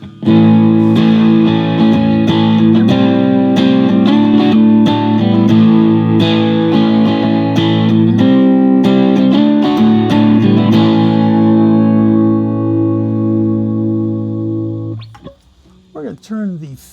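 Electric guitar through a Pro Co Rat distortion pedal with the filter turned all the way up, loud driven strummed chords and riffs played steadily, ending on a ringing sustained chord that fades before a few short notes.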